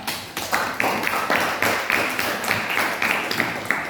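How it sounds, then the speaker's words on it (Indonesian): Applause for group 4 during an online class: a steady run of evenly spaced claps, about two or three per second, fairly close and loud, with no one speaking. "kita berikan juga aplaus untuk kelompok 4"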